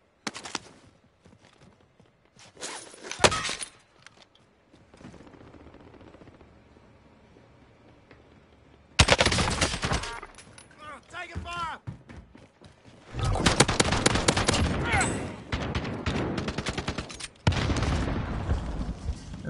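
Video game gunfire comes in scattered loud bursts and rattling volleys, intermittent with quieter gaps, while a voice talks over the action.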